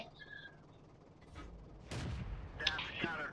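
Tank cannon fire during a World of Tanks replay featuring an AMX 12t: a faint, distant muffled boom followed by smaller cracks and rumble, low and quiet under the background.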